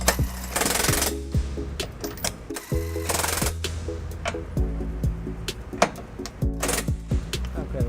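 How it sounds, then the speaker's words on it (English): A DeWalt cordless electric impact driver with an 18mm socket on an extension snugs up trailer hitch bolts on a 2008 Toyota RAV4, firing in several loud, close rattling hammer bursts separated by short pauses. "I'm going to take an electric DeWalt impact, and I'm going to use an 18mm socket with an extension here"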